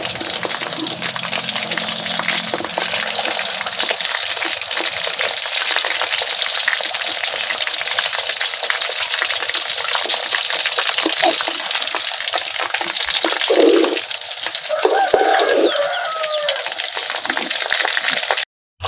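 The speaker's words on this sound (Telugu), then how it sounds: "ఇప్పుడు చికెన్ కబాబ్ ముక్కలు మనకు బాగా ఫ్రై అయినాయి." Andhra-style chicken kebab pieces fry in oil with a steady, dense crackling sizzle that runs nearly the whole time, close and even, with a few brief bubbling bursts near the end.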